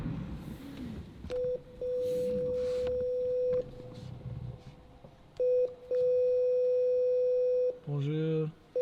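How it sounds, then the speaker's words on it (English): An electronic intercom at an office entrance gives repeated long steady beeps in several bursts, loud and close, with faint background noise between tones and a brief garbled burst near the end. "I'm assuming that beep is going to that office right there with nobody in it."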